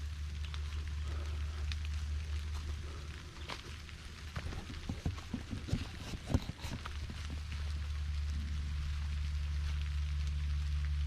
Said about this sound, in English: as the rain piles in.